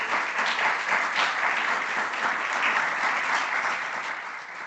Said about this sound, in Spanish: No sin antes darle otro aplauso al equipo completo de Kiklos